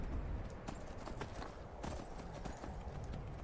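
Hooves clop in a quick, steady rhythm as a horse gallops in the video game Skyrim, a close, continuous drumming over a dense game backdrop with no clear speech.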